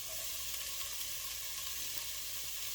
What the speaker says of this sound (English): I'm going to go ahead and get all these onions inside and peppers